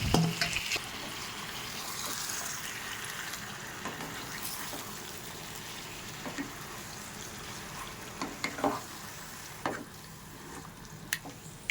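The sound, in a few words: marinated chicken added to frying spice masala, sizzling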